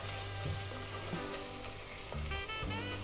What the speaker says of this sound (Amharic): ጠበስ ጠበስ እናረጋለን ከዛም ነጭ ቅመም ነው የሚጨመረው